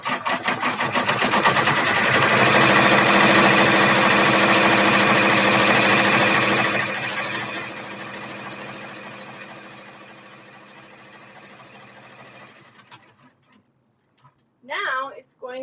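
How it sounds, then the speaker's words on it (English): A sewing machine runs loud and close with a rapid, steady mechanical chatter as it stitches fabric in a U shape, then slows and fades out, leaving a brief burst of handling noise near the end. "And then it'll stitch in a U shape around."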